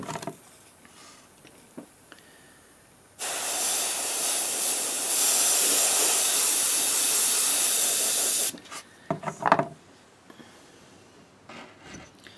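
Spray paint hisses onto a fishing lure in one sustained burst of about five seconds, loud and close, with quieter handling and rubbing sounds before and after.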